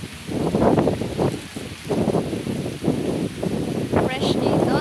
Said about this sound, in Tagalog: Ang lakas ng hangin diba?